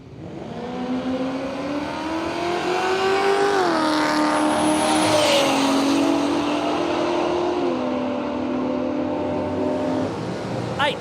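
A Holden LX Torana drag car at Willowbank Raceway roars at high revs, its engine note climbing and shifting pitch as it accelerates, loud and continuous with a faint tire squeal.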